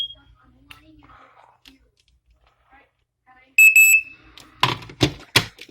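A Black & Decker Flame Buster smoke alarm gives a short shrill electronic tone after near silence and faint handling, then a few loud knocks and clatters follow close by.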